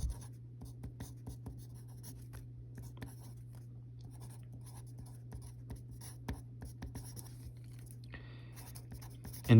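Pen writing on paper, a quiet close scratching of short strokes and pauses over a low steady hum, with no talking.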